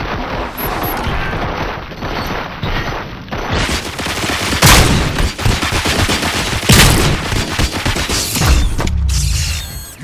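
Gunfire in the RoboCop: Rogue City video game, a sustained loud barrage of rapid shots and heavy impacts with sharp louder blasts standing out, continuing for about ten seconds with no talking.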